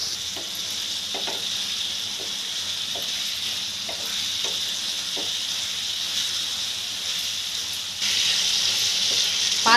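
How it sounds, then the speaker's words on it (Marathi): Liver pieces fry and get stirred in a pan over high heat, a steady loud sizzle running throughout with a scrape of the spatula every second or so, and the hiss swells louder near the end. "आता हे मी मस्त पैकी 5 मिनटं मोठ्या गॅसवरच परतून घेणार आहे।"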